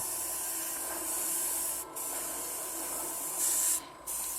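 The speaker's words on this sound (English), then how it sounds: "just put that in your airbrush and spray it on" An airbrush sprays navy blue paint onto a surface, giving a steady close hiss with short pauses where the trigger is released, then one louder burst near the end.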